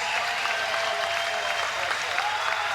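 A large boxing arena crowd applauds steadily after a twelve-round super featherweight title fight, a loud, dense wash of clapping that holds without a break.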